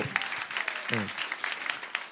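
Applause from a church audience for a professor at a worship lecture, a steady patter of clapping throughout with a brief low voice breaking in partway.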